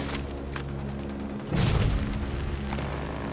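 Distant artillery shells burst in the Rising Storm 2: Vietnam battlefield, a deep rumbling boom swelling around the midpoint over a constant low roar of combat noise.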